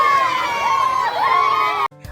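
Students at Nalbari's Sankardev Academy cheering in the school courtyard: a loud crowd of young voices shouting and whooping together, cutting off abruptly near the end.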